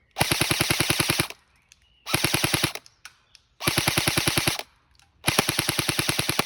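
Rapid bursts of automatic fire from an SA-FX01 Flex X-ASR airsoft submachine gun, four sustained strings of fast clicking shots separated by short pauses, close and loud.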